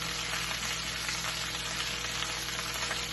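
Keto salmon cakes fry in a pan over mid-high heat, giving off a steady, dense sizzle that stays even and close throughout.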